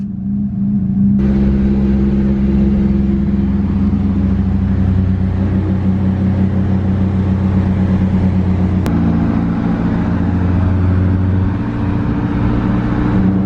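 A Nissan 240SX engine runs close by in a loud, continuous idling rumble with steady low tones, and the pitch shifts up briefly partway through, with no talk.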